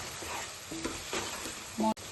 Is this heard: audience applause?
no